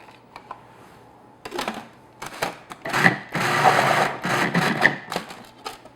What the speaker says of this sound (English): pretty simple when you use a food processor